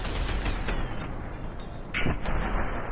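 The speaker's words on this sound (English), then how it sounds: "This gun shoots like darts or something." Nail gun firing darts in the shooter game Fear 3, a dense run of booming, echoing shots with a heavier burst near the end, loud and close with no talking.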